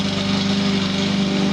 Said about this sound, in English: Excuse the lawnmower there next door.